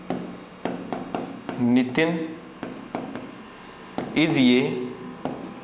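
Chalk or marker scratches on a board during a grammar lesson, with short rhythmic strokes and two longer scrawling passages, close and mixed with a teacher's brief speech.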